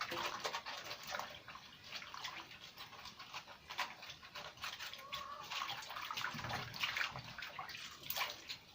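Cabbage leaves are washed by hand in a basin of water in a village kitchen, giving continuous close splashing and sloshing, with scattered drips and rustles of the wet leaves.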